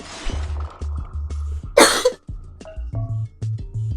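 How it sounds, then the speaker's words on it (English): A person coughs once, sharply and close, amid light indoor household sounds and low thumps. "I had a cough."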